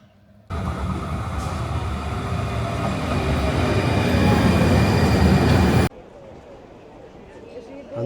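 A loud, steady rumble of a tram passing close by at a tram station on the Alicante–Benidorm line for several seconds, then cutting off abruptly to quieter ambient noise.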